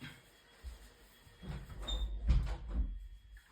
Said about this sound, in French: je ferme la porte parce que je ne sais pas si vous entendez ce bruit